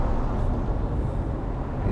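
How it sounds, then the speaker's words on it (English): A car turning on a road, heard as a steady, close, broadband roar of engine and tyre noise with no speech over it. "There's a car turning right here."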